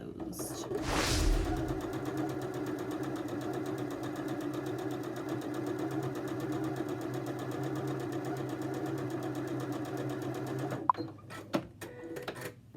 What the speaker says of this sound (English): I'm going to sew an edge stitch down the end of this so that it'll stay closed.